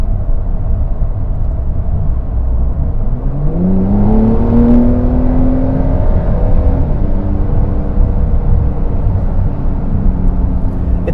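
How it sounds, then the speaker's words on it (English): A 2024 Porsche 911 Carrera 4S flat-six engine with sport exhaust hums steadily, then revs up with a rising, smooth growl before settling into a steady cruising drone, loud and close. "It's definitely a refined sound that this engine makes, but at least you can still tell that this is a flat 6 engine"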